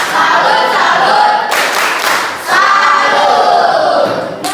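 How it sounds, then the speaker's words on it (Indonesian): A classroom of pupils claps together in a rhythmic salute clap, loud, dense and continuous with a brief dip midway, no talk over it. "kasih tepuk salut untuk kita semua"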